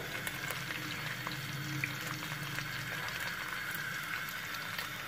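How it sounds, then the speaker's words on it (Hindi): Okra (bhindi) frying in oil over high heat, giving a steady bubbling sizzle that holds evenly at moderate level with small pops throughout. "और तब तक हम इस भिंडियों को फ्राई करेंगे जब तक ये श्रिंक नहीं हो जाती"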